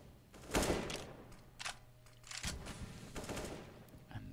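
Pistol gunfire in a Counter-Strike match on Train, heard as short clusters of quick, sharp shots in a few separate bursts, moderately loud against low background noise.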